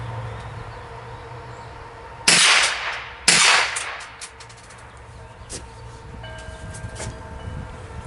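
A Kel-Tec Sub 2000 9mm pistol-caliber carbine fired with a suppressor gives two loud, sharp shots about a second apart, each followed by a brief ringing decay, then quiet outdoor ambience.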